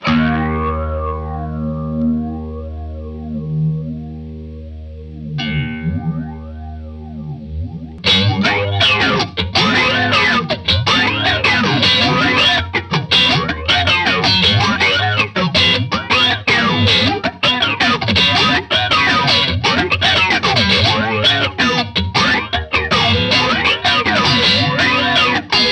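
Electric guitar run through effects pedals into a Strymon Iridium, opening with a few clean sustained notes before breaking into a loud, dense, distorted and modulated chorus-like wash with echo, playing continuously with no talking.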